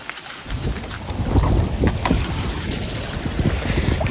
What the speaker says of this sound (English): The wind is a bit disconcerting